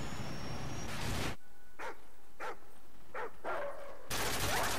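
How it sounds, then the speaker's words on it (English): Attack dogs strapped with C4 in Modern Warfare 3 Survival bark in several sharp bursts between loud stretches of gunfire and combat noise. "this is what happens when the dogs with the C4s start to come up"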